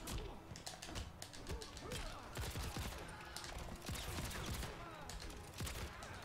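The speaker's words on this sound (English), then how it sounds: "He has a lot of gunshots." Rapid bursts of gunfire and heavy impacts from the fighting game Mortal Kombat 11, dense and continuous, mixed with thuds and crashes at low overall level.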